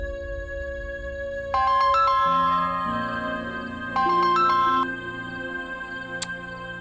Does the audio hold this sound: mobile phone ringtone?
yes